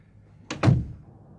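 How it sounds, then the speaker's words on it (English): A door thuds shut nearby, a quick double knock of impact with a heavier second hit, then quiet room tone. "let's shut the damn door"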